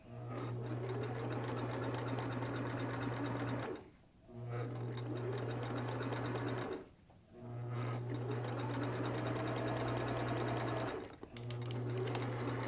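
A sewing machine stitches a CourageCap in four long, steady runs of close, humming mechanical whir, separated by brief silent pauses, with no talking.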